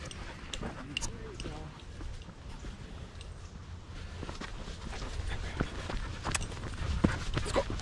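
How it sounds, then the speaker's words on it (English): Older dog at a dog park, panting and softly whimpering amid scuffling paws and footsteps, close by and fairly steady, with light outdoor background noise and occasional brief human voices. "Well, I got my 9-year-old dog"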